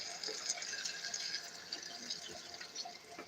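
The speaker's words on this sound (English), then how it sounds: "So throw in some water." Water poured into a cooking pot of browned beef, a steady splashing trickle that runs for a few seconds at close range, fairly quiet, with no voices.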